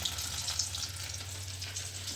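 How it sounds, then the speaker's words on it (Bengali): Paneer cubes frying in hot oil for matar paneer, a steady, close, even sizzle that crackles without a break from start to end, with no voices. "আর আমি এখন ভাজছি পনির"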